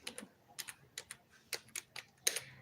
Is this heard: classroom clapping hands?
no